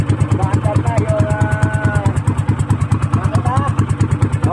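A ZS Power ProQuip 18hp low-speed single-cylinder boat engine putters close by in a fast, steady, even rhythm of thumps, with a faint whistle briefly rising above it.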